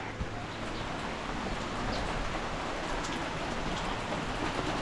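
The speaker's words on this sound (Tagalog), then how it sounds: "lakas ng ulan. Ayaw tumigil ang ulan." Heavy rain pours down steadily, a dense wide hiss of drops beating on surfaces, loud and continuous and without any pause, with no talking heard.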